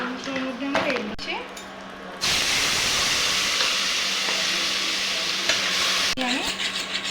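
A ground turmeric, cumin and coriander spice mix sizzles steadily in hot oil in a pan, the frying growing louder after a stir, with someone speaking over the start and end.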